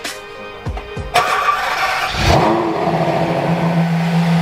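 Ferrari in Azzurro California paint, from a crashed car, cranks over with a couple of starter bursts, catches and fires, then settles into a loud, steady idle with a rising rev.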